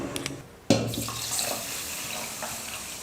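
Water poured from a tap into a vessel of 800 g seeraga samba rice set to soak, a sudden steady splashing gush that starts partway in and keeps running close by.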